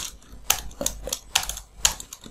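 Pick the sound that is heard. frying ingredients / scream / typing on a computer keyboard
typing on a computer keyboard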